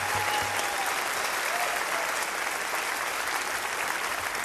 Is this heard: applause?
yes